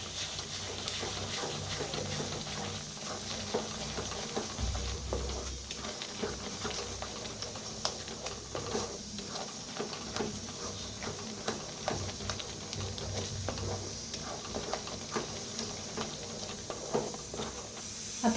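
Masala with turmeric, chicken masala and red chili powder frying in hot oil gives a steady low sizzle and crackle with scattered pops, moderately quiet and continuous throughout.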